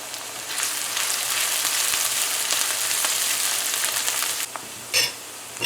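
Onions frying in a pan for an eggplant and eddo curry, a loud steady hiss of sizzling oil close up, easing briefly near the end before a short burst of stirring.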